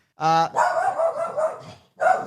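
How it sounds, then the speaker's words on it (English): A dog barks loudly and close by, one sharp bark followed by a run of yappy, whining barks, then a pause and another bark, with no talk over it. "The dog's barking, everyone."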